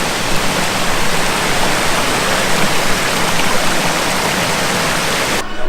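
Clear mountain water rushes loud and constant in a stream in Chefchaouen, Morocco, a dense unbroken hiss close by with no talk.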